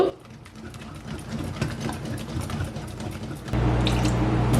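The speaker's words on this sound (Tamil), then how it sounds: "நான் எடுத்த ஒரு கப் இல்லாட்டிக்கு இருநூற்றி ஐம்பது மில்லி லிட்டர் தண்ணியையும் விட்டுருக்கிறேன்" About a cup of water, 250 ml, is poured into a chana dal batter for susiyam, a steady trickling splash close up that thickens into a fuller gushing pour near the end.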